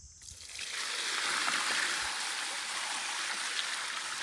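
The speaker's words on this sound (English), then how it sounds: "Let me go ahead and pour out some of this water." Water poured from a fish bucket into a pond while stocking paddlefish, a steady splashing gush that rises after a brief start and holds for several seconds, close by with no talk.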